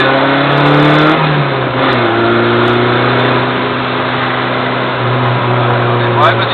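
A car pulls away and speeds up during a driving lesson, its mid-pitched engine note rising and shifting steadily close inside the cabin, with people talking over it.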